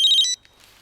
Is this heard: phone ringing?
yes